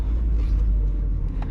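Steady low rumble of a 1999 Honda Civic DX four-door with a 5-speed manual, heard from inside while driving, a constant engine and road drone at moderate level with no break.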